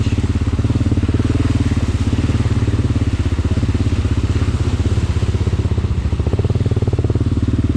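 A Yamaha dirt bike engine runs close by with a loud, rapid, even putter, idling steadily throughout with a raspy, crackling exhaust tone.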